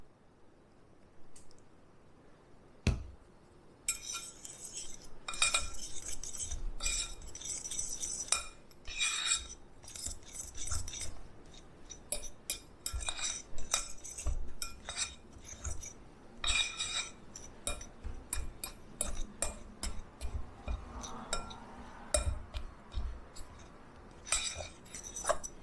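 Butter is stirred into a keto coconut cream pie filling in a bowl: a steady run of close, bright utensil clinks and scrapes against the dish, with soft wet squishing underneath.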